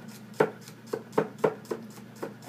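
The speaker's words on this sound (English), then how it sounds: "I'm chopping up my scallion right there" A knife chops a scallion on a cutting board in a home kitchen with a nonstick pan nearby, giving a series of crisp, close, irregularly spaced taps with quiet gaps between them.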